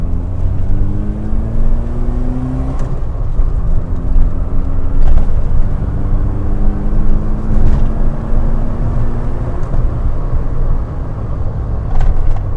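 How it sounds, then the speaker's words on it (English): An Austin Metro's A-series engine runs steadily, a close, loud low rumble with a rising and falling drone as revs change, and a few sharp clicks or knocks break through now and then. "Sorry, A-series noises."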